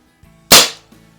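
A single sharp crack from a 1958 Crosman Hahn 45 CO2-powered BB revolver fired at cans, a loud close pop with a quick decaying tail, followed by a faint small knock.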